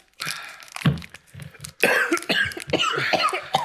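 Several harsh coughs and throat-clearing bursts come up close during a spicy death nut challenge, broken by short gaps, with no clear speech in between.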